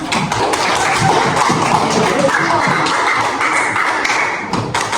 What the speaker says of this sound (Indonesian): Kasih aplaus sama temannya.